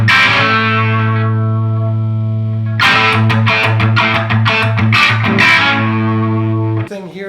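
Distorted electric guitar through an effects unit with chorus, first a heavy sustained low chord, then choppy, rapid strummed chords. Loud and close, ending in a brief scrape.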